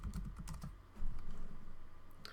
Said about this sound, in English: then I can start typing things in